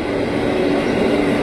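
A 12-car KRL commuter electric train, set JR 205 series 101, running at Depok as it heads back to the depot, heard as a loud, steady rolling roar from close by with no voices.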